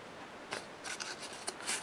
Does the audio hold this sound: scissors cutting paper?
yes